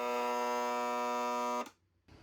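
A seized Rainbow D4 vacuum motor strains with a loud, steady electric hum that cuts off abruptly, followed by near silence and a faint noise resuming.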